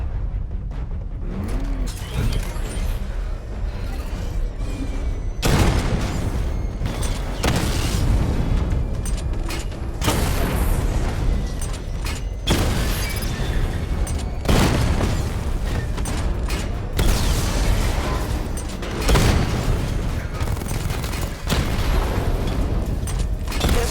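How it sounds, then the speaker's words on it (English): Repeated heavy explosions from a missile barrage in the Batman: Arkham Knight video game, loud booms landing every few seconds over a rumbling mechanical background. "Charge up missile barrage to level 2 and destroy 4 active targets to complete diagnostic test."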